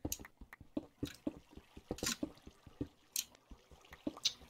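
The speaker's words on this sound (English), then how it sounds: "I just know I hear water" Quiet, irregular drips and splashes of flowing water in the Minecraft video game, a string of soft plops spaced unevenly.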